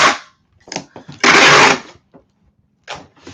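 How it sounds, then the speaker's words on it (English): Packing tape is pulled from a dispenser while eBay orders are packed, with several sharp ripping screeches and one long loud tear amid short clicks and pauses, close and alone. "ASMR of reselling, that tape noise."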